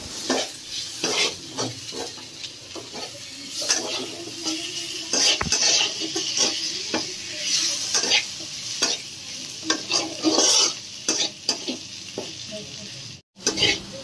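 Chopped tomatoes and onions are stirred in a frying pan, a steady sizzle under repeated scraping strokes of a spoon against the metal, close and fairly loud for the whole stretch, with a few sharper clinks along the way.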